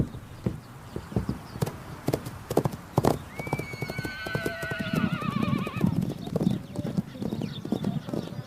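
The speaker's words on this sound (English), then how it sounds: "Their name for the horses is Taki." Horses roaming open land clop steadily as their hooves strike the ground, and partway through a loud, wavering neigh rises above the hoofbeats.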